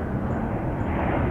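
Steady, loud roar of an Alaska Airlines jet at San Francisco airport, a broad continuous rumble holding level through the whole short stretch with no voices over it.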